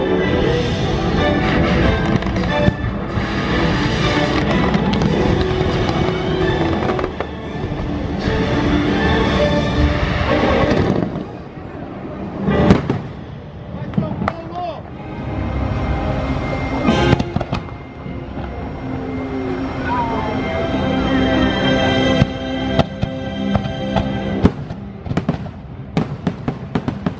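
Fireworks from Epcot's Illuminations nighttime show boom and crackle continuously, with dense, loud bursts that thin out partway through and then build again, heard from a distance.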